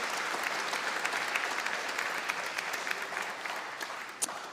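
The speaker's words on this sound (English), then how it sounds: "And I think we also want to give a huge round of applause to Andrea for giving up her evening and lead" An audience at election hustings in All Saints Church, Marlow, claps steadily for several seconds, a dense sustained patter with a few sharper individual claps standing out.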